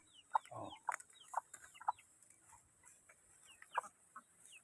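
Chickens in a backyard coop clucking in short separate bursts, several sharp clucks spaced irregularly with quieter calls between, fairly close and moderately loud with no talking.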